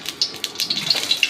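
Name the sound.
oil being poured into a pan on the stove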